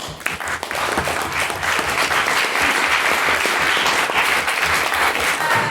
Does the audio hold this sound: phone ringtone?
no